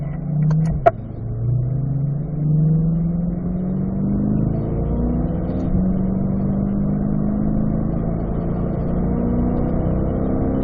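Cars rolling out onto a race track in a line, engines rumbling steadily at a moderate distance, with one engine note rising as it accelerates.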